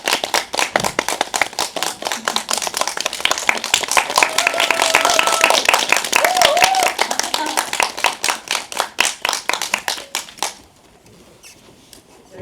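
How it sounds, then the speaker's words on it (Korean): A cinema audience at a film Q&A session claps steadily and briskly to welcome the director and actors, with dense, close hand claps sustained for about ten seconds before quickly dying away, and a brief voice in the middle. "저희 박수로 한번 모셔보겠습니다."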